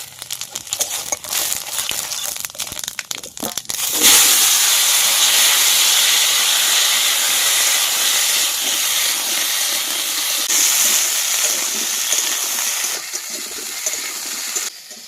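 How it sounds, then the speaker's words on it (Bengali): Potatoes go into hot oil with bay leaf and cumin. Scattered crackles give way to a sudden loud, sustained hiss of frying that stays strong and close, with no talking. "কড়াইতে বন্ধুরা তেল আছে, একটু তেজপাতা আর একটু জিরা ফোড়ন দিয়ে আলুগুলো ভেজে নেব"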